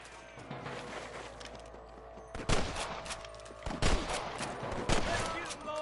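Sharp gunshots crack out in bursts across a Western shootout with snipers in Red Dead Redemption, the reports fairly distant and separated by short gaps, with game ambience underneath.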